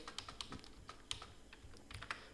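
Keys clack on a computer keyboard while customer details are entered in Tally Prime billing software: several quick, close, crisp taps, with no talking.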